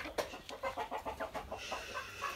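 A fighter-breed rooster and hen make soft, rapid clucking calls in a quick, evenly spaced series, fairly faint and close, with a faint low background hum.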